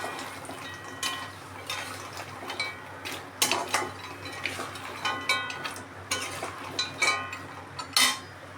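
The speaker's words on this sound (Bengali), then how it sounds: "চাশনির মধ্যে দিয়ে আমি 2 মিনিট নেড়ে চেড়ে নিয়েছি" Gaja chips are stirred through sugar syrup in a pan, with repeated close clinks and scrapes of a spoon against the metal in an uneven rhythm over a faint background hum.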